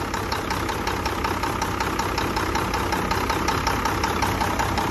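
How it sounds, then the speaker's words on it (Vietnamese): A motorcycle engine idles smoothly up close, with a steady, even mechanical chugging and a rapid regular ticking rhythm running continuously, with no voices. "Máy lổ êm ru không có khói nhá."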